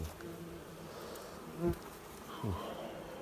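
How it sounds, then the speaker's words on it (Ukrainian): Wasps and bees buzz around an Ukrainian-style wooden beehive, a continuous low hum with a couple of louder close fly-bys swelling and fading, and no talk over it. "Що цікаво, більше оси лізуть, як бджоли."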